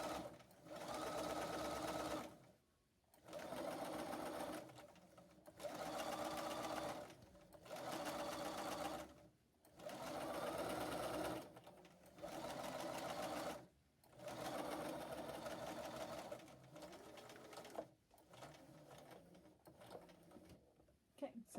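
A sewing machine stitches a fabric face mask, running in steady bursts of rapid mechanical chatter several seconds long, separated by short pauses, all close by.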